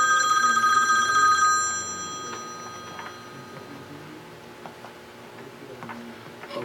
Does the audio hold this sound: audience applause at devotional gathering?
no